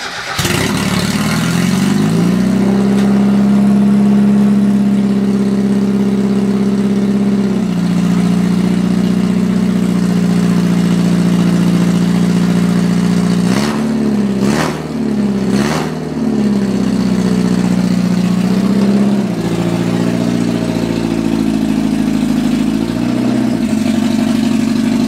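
A car's engine cranks and fires up after a transmission swap, then idles loudly and steadily, with a couple of quick revs midway before settling back to idle; no talking.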